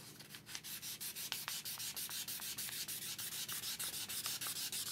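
An old rusty axe being sanded with 1000 grit sandpaper in quick, even up-and-down strokes, a close, rhythmic scratchy rubbing repeating steadily throughout.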